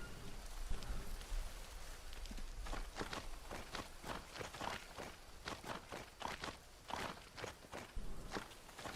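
Squishy footsteps tramp through mud in the Green Hell jungle survival game, a steady run of soft, wet steps at close range over a faint background hiss, with no talking.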